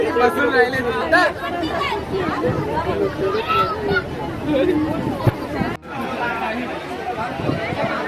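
Passengers on a crowded Diva–Roha MEMU train in Maharashtra chatter and talk over one another in a steady, close babble of overlapping voices, with a brief dip partway through.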